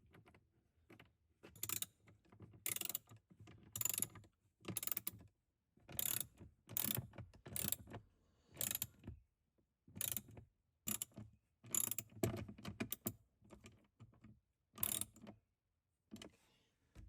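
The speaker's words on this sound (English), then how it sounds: "I'll put all three screws in first and then I'll tighten them down." A ratchet tightens three screws during a cabin air filter change on an Alfa Romeo Giulia, giving repeated bursts of fast clicking separated by short pauses, close and fairly quiet, with no talk.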